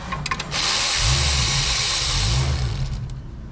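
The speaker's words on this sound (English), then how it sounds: "I'm gonna go ahead and take my smaller Milwaukee ratchet." A Milwaukee ratchet loosens a stuck bolt during a 2007 Hyundai Sonata alternator replacement, giving a few quick clicks and then a steady, close mechanical whir of about two seconds that winds down. No one speaks.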